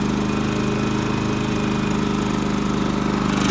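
A Champion 3400-watt dual fuel inverter generator with electric start runs steadily in economy mode, a close, even engine drone with a low throbbing hum that holds constant throughout with no talking.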